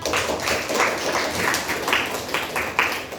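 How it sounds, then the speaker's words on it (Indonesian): Applause from a classroom group after a student presentation, a soft, steady patter of many hands clapping at moderate loudness for a few seconds. "Oke, tepuk tangan."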